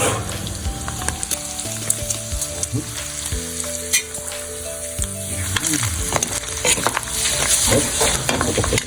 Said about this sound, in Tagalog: Pinapa brown natin muna yung karne.